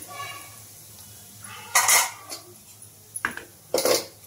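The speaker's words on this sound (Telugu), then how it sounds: "ఇలాచి ఒక ఇంచు చెక్క ఇవన్నీ వేసేసుకొని ఇంకా ఇవన్నీ వేసేసుకొని ఒకసారి బాగా కలిపేసుకుందాం" A metal spoon clatters and scrapes in a pan while bay leaf, cumin, cardamom and a piece of cinnamon are stirred together, with a few sharp clinks and knocks spread over several seconds against a quiet background.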